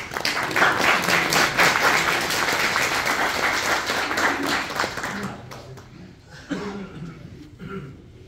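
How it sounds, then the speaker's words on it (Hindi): Audience applause at a farewell celebration, a dense sustained round of clapping from a large crowd with scattered chuckles, loud at first and thinning out toward the end. "आपकी तालियों, भरपूर तालियों में मैं जफर साहब को दावत दूंगा।"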